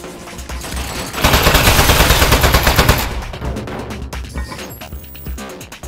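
A gun-equipped household appliance in Aperture Desk Job fires a loud, sustained burst of rapid shots lasting a couple of seconds, followed by clattering impacts.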